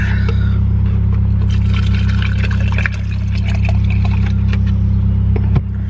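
Water pours steadily from a freshly opened gallon jug for mixing, a continuous close liquid rush over a constant low hum, with small splashes and gurgles scattered throughout.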